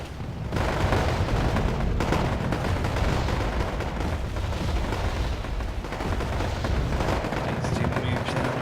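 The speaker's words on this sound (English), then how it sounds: "There's a lot of cheap artillery." Dense, continuous artillery and mortar barrages boom and rumble in a Wargame AirLand Battle match, a steady roar of overlapping explosions with no clear gaps.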